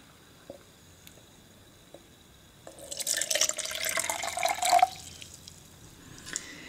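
Tap water pours from a faucet into a container for rooting pepper cuttings, a soft trickle swelling into a steady splashing stream for a couple of seconds before stopping.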